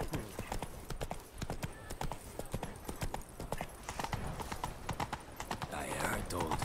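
Hooves of Roach, Geralt's horse in The Witcher 3: Blood and Wine, clip-clop in a brisk steady gallop rhythm close up, with a voice speaking over the hoofbeats.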